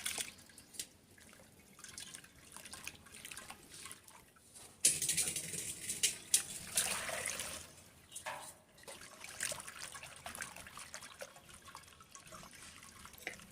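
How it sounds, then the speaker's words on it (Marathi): Wheat starch water strained through cloth, heard as soft trickling and dripping liquid with a louder, fuller pour in the middle before it settles back to faint drips. "अशा प्रकारे आपल्याला हे पाणी म्हणजेच हा चीक गाळून"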